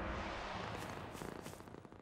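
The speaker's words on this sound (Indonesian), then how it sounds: "Kau kucing yang nakal." A cartoon cat purrs in a steady, soft rumble, close and fairly quiet, with a faint rhythmic pulsing toward the end and no talking.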